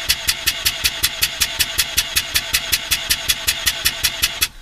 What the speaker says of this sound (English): So neutral slash park, floor the gas pedal and crank for 5 seconds.